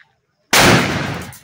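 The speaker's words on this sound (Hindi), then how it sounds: "बम लग गया" A Diwali firecracker bomb goes off after a brief silence, a single sharp, loud blast close by that decays into a rumbling tail.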